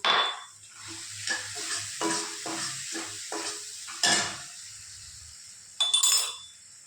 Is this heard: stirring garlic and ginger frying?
yes